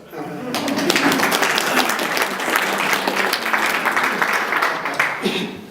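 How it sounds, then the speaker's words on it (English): An audience in a room breaks into sustained applause, dense clapping holding steady for several seconds before tapering off, with a voice faintly beneath. "Let's clap for that."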